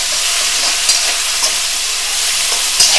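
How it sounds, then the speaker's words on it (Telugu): Green capsicum and chicken stir-frying over a high flame, a loud, continuous sizzle with a few soft clicks of stirring, close and without talk. "ఇది కొంచెం హై ఫ్లేమ్ మీద పెట్టి బాగా వేగాలన్నమాట"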